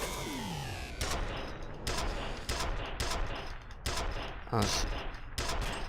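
In the video game FEAR, gunfire hammers a turret in a string of loud, rapid bursts with short gaps between them, while someone speaks briefly over the shooting.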